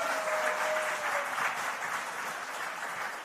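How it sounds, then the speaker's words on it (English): An audience at the Entente Florale Europe awards claps steadily in sustained applause, a dense wash of many hands that holds at an even level throughout. "A huge round of applause and congratulations to our 2022 participants."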